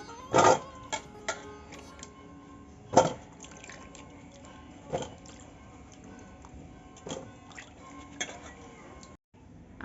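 Washed mangoes being lifted out of a basin of water for pickle-making, heard as a few sharp splashes and wet clunks spaced several seconds apart, close and fairly quiet.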